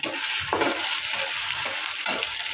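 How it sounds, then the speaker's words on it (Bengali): Onion and ginger-garlic paste fry in a pan with a constant bright sizzle, broken by a few close spatula stirs and scrapes. "আমি আদা রসুন বাটা দিছি আর পেঁয়াজ দিছি এগুলো বোনা করে ফেলতেছি"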